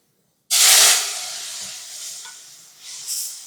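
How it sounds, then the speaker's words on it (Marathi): Water poured onto hot spice masala in a kadhai for a spiced brinjal and potato curry bursts into a loud hissing sizzle, then settles into a steady steaming hiss with a brief swell near the end; no voices. "आता हे मसाले खाली कढईला करपू नयेत म्हणून यामध्ये थोडंसं पाणी घालूया"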